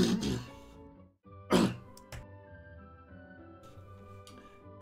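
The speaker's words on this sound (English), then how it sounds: "I'm gonna have to clear my throat for the next 10 hours" A man clears his throat in a few harsh, close bursts separated by brief pauses, loud at the start and again near the middle, followed by a quieter stretch with low background hum.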